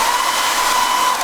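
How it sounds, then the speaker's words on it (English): A hairdryer blows steadily at close range while drying the sky of a knife-painted landscape, a constant whir with a faint high whine, alone. "I'm just going to dry that sky off first with a hairdryer."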